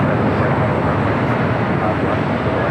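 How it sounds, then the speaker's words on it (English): An Airbus A380 airliner at LAX airport produces a steady, broad jet-engine roar that stays constant and fairly loud, with radio voices talking faintly underneath. "A380 Super."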